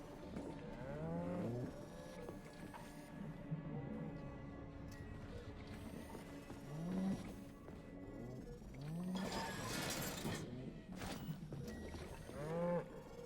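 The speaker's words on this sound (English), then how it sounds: "it's like there's 3 cows somewhere, I guess" Cows mooing in Atomic Heart, several low drawn-out moos spaced a few seconds apart at moderate distance over a quiet ambient hum, with one louder burst of noise midway.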